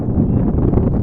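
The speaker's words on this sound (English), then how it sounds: "you can hear it, about a 15, 16 mile an hour wind coming out of the southwest area" Strong southwest wind gusting across a high school baseball field on a warm day, a dense low rumble of wind buffeting the microphone in a brief continuous burst.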